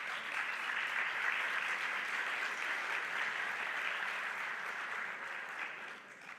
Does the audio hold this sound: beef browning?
no